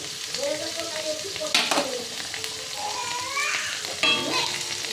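Ginger paste, kasuri methi and cumin powder frying in a pan, a steady sizzle with occasional sharp scrapes of stirring, while children's voices chatter faintly in the background.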